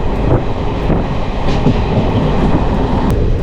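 The Palaruvi Express rolls into Ottapalam railway station with a loud, continuous rumble and rattle of wagons and wheels, close by and without speech.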